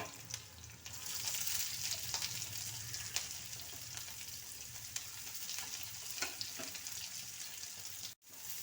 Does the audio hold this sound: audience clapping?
no